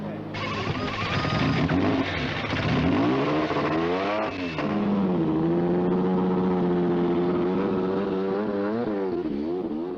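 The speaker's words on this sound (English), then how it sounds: "As Elio de Angelis drives a trifle gingerly out of the Paul Ricard pits" A Lotus 93T-Renault turbo Formula 1 car pulls gently out of the Paul Ricard pits in 1983, its engine rising in pitch on the throttle, dropping back, then holding a steady harmonic drone, close and loud.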